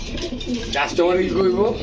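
Narayanganj pigeons coo in short, soft, throaty bursts close by, partly mixed with a voice talking over them.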